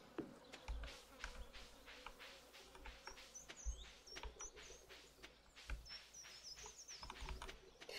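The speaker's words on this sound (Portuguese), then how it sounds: "Esse som de mosca vai me fazer enlouquecer." Buzzing fly ambience from the farming game Stardew Valley, a steady insect drone with repeated soft clicks and faint bird-like chirps over it, no talking.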